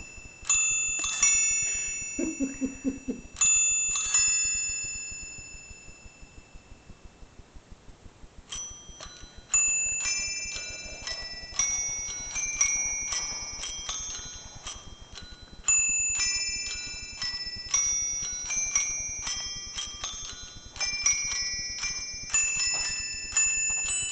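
Small metallic bells of a toy Christmas band chime in quick repeated patterns over a steady mechanical ticking, bright and tinny like a wind-up toy, continuing throughout without voices.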